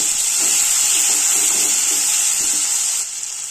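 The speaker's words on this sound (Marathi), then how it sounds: "कांदा लसूण लालसर झाले की यात टोमॅटो ॲड करा." Tomatoes are added to onion and garlic that have been fried until reddish, giving a loud, steady, close hiss of sizzling oil that eases slightly near the end.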